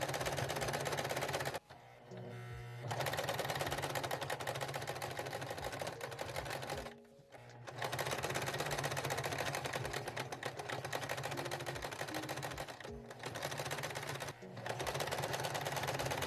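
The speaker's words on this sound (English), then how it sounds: "use matching colored thread to stitch in the ditch along the waist seam" A sewing machine runs in long continuous bursts, stitching in the ditch along the waistband seam of a pair of shorts, with a few short pauses between runs.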